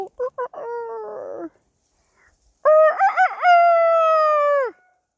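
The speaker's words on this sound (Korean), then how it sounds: "저 윗집에서 닭도 키우나 봅니다." A rooster from the chickens kept at a neighbouring house uphill in the countryside gives a few short clucking calls, then after a pause lets out one loud, long crow close by, with no talk.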